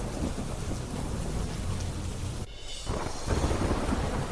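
Heavy monsoon rain pours during a night of seven inches of rainfall in Gujarat, a dense steady roar with low thunder rumbling beneath it. The sound is moderately faint, dips briefly midway, and has no voices.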